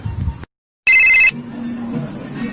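Electronic phone ringtone sounding in two loud high-pitched bursts separated by a short silence, followed by a faint low hum.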